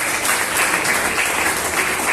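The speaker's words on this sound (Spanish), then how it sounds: "¿Cuántos pueden dar un fuerte aplauso a la palabra que bendiga?" Church congregation breaking into loud applause after a sermon passage, a dense, sustained wash of clapping with no voices over it.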